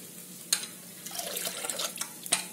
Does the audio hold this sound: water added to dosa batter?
yes